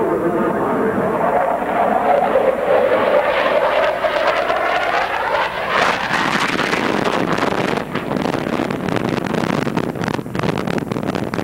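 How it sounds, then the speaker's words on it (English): F-14 Tomcat jet fighter at an air show flying a half Cuban 8 over the flight line, a loud sustained jet roar with a rising then falling whine, blended with wind buffeting and announcer-style talk. "Lieutenant Commander Clark is now executing a 1/2 Cuban 8 to reposition over the flight line."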